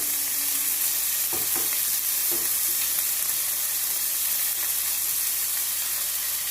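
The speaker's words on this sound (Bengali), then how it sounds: "তেলের সঙ্গে মশলাটা একটু নেড়ে নিচ্ছি" Spice paste of ginger, garlic and onion stirred and frying in oil for a Bengali prawn malai curry, a steady sizzle throughout with a few brief scraping stir strokes early on.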